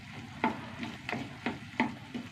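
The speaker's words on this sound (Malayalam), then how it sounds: "നന്നായി ഇളക്കിയെടുക്കാം." A spoon stirs curry masala in a pan with rhythmic scraping strokes, about five firm sweeps spaced roughly half a second apart over a low sizzle, up close and with no talking.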